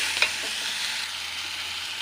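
Dry red chillies, curry leaves and coriander dry-roast in a pan with a steady soft hiss and a rustle of stirring. One brief scrape sounds near the start, and no one talks.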